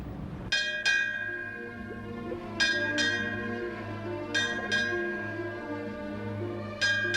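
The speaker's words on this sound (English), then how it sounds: "Keep ringing that bell!" A ship's bell rings in loud, clanging strikes, struck in pairs at about two-second intervals with long ringing decay, heard close up over a low steady drone.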